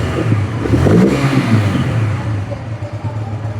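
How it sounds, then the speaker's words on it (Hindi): A 2026 Bajaj Freedom 125 CNG motorcycle engine revs up close, its mid-pitched drone rising then settling back to a steady idle over a few seconds, with no talking. "मुझे एक बार रेव करना पड़ेगा।"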